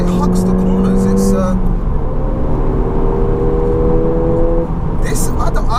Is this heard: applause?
no